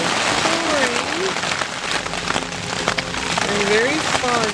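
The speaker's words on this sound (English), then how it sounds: "It is pouring" Steady, dense rain pours down at night in Arkansas without letup, a broad hiss with spattering drops close by, and faint voices murmur beneath it.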